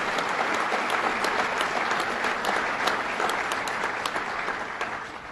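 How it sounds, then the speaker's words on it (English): An audience applauds Commissioner Jerry Hauer at a public event launching a citizen preparedness training program, a dense, sustained round of clapping from a sizeable crowd that holds steady and then eases slightly toward the end. "Let's give him a round of applause."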